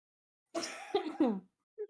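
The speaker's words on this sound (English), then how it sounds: "Oh man, I got this cough." A man coughs a few times in quick succession, close and moderately loud, with a short bit of throat noise after a brief pause.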